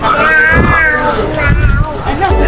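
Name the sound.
baby imitating a cat meowing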